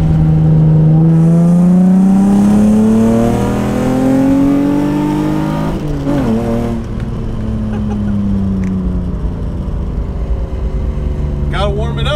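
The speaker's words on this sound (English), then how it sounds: "Gotta warm it up, make sure the fans are working." A Nissan 350Z or Infiniti G35 warming up, its engine revving and sweeping up and down in pitch under a steady whir of radiator fans, loud and close throughout.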